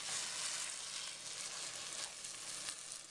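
Onions sizzling hard in a pot over high heat for French onion soup, a steady, loud, close frying hiss that fills the whole stretch with no talk.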